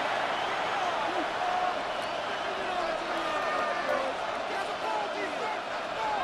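Football stadium crowd in the Madden NFL 26 simulation of a Seahawks vs. Patriots Super Bowl, a steady, dense roar of cheering that holds at full volume throughout under commentary.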